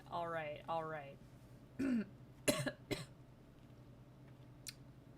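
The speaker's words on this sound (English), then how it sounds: "Don't mind me, I'm just coughing." A few short throaty coughs and throat-clearing bursts, close up, following some brief vocal sounds.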